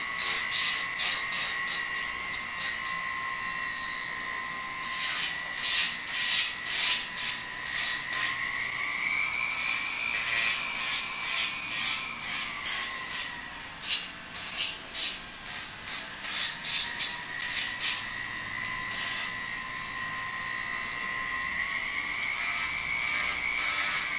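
Rotary grinder shaping wood for intarsia keepsake boxes, a steady whining hum with rhythmic rasping bursts as the tool bites into the wood, loud and close, rising and falling in pitch.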